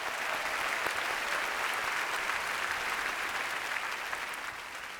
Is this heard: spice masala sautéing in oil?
no